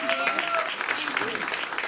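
Audience applause at an Indian theatre academy performance evening: a steady, dense wash of clapping from a crowd that holds at an even level throughout, with faint tonal whistles or cheers near the start.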